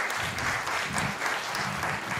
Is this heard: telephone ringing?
no